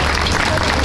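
Dense, loud applause from the audience at a gala concert by a former students' band, a continuous roar of clapping with crowd noise mixed in, filling a brief moment.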